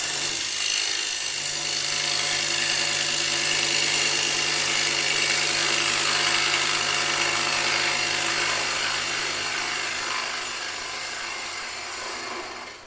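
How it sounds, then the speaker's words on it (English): A bowl gouge cutting into wood spinning on a lathe, pushed hard to clear material, producing a steady, loud, continuous rasping hiss that stays level for most of the stretch before easing slightly at the end. "can you hear that noise? That's me pushing a bit hard, just trying to get that wood away."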